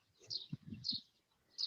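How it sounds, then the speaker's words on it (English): Small birds chirp outdoors in short, high-pitched calls, three faint bursts spread over a couple of seconds, with a soft low voice murmuring between them. "Birds sound lovely in the background."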